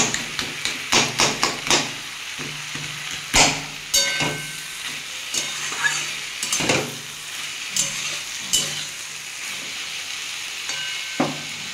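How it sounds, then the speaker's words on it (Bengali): A spatula breaks up fried fish head among vegetables sizzling in a pan, giving sharp, irregular knocks and scrapes against the metal over a constant hiss of frying. "একটু খুন্তি দিয়ে এগুলো একটু ভেঙে দিচ্ছি।"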